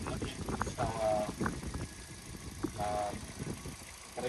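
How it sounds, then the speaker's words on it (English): Hyundai i20 engine idling after a service for a misfire, with the radiator cap off; a steady low hum runs beneath speech, with faint chimes and a few light knocks. "Now we have started our engine. It's running fine."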